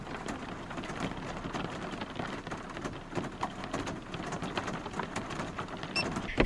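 Steady rain falls around a van on a hilly coastal road near Byron Bay, a dense, even patter of drops with soft crackles, faint and continuous with no voices.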